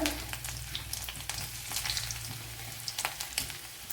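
Fenugreek seeds and a small piece of ginger sizzle and crackle in hot oil for a Kerala gooseberry curry, a steady close frying hiss with scattered pops and crackles throughout, no voices.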